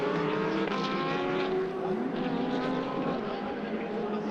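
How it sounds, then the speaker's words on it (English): GT2 race cars on a formation lap at Paul Ricard drone steadily at mid distance, engine notes rising and falling under continuous commentary. "So the cars now turning their way down towards the approach of the Mistral."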